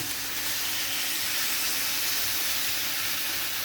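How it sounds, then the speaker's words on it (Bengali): Water hitting hot oil and vegetables in a kadai sets off a steady, loud hiss and sizzle that holds evenly throughout, close by, with no talking. "এবার আমি দিয়ে দিচ্ছি সামান্য একটু জল"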